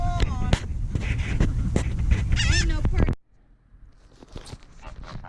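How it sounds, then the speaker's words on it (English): A flock of geese at a lake honks repeatedly and loudly at close range, calls overlapping for three seconds before cutting to a quieter stretch with scattered honks and footsteps-like thumps; a person talks among them. "Hear them honking? These are some pretty geese."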